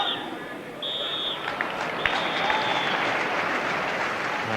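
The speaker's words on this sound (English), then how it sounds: "And good applause for the players as they come off." A football stadium crowd at Norwich City v Spurs applauds the players as they leave the pitch, a steady broad roar of clapping and crowd noise throughout, with a faint whistle-like tone early on.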